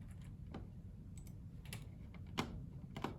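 Mouse clicks from drawing in CAD software, a handful of sharp, faint ticks spaced irregularly over a low steady room hum, with no talking.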